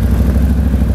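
A 2016 Can-Am Maverick XXC 1000 side-by-side engine fires up with a loud, close, low rumbling idle that holds steady for a moment.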